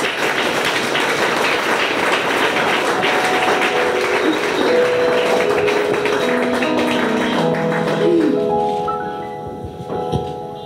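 Loud, sustained applause from a church congregation at a Burundi gathering, steady clapping throughout that thins and tapers near the end.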